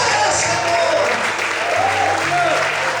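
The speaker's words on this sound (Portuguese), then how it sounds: "Vamos para aplaudir e exaltar." Church congregation applauding steadily at a worship service, dense sustained clapping filling the space with a few voices calling out over it.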